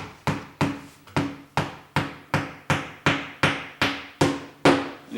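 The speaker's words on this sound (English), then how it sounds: "You're doing terrible hammering. Lots of hitting something that's like metal or wood or something" Hammer blows driving large finishing nails into a solid wood coffee table, about a dozen sharp, evenly spaced strikes in a steady rhythm, loud and close with no talking.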